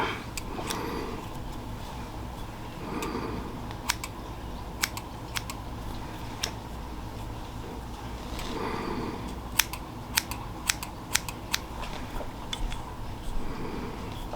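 Scissors trim a small foam fly-tying frog, a panfish and bass fly, with a string of sharp close snips in irregular bursts over a quiet room hum and light handling rustle.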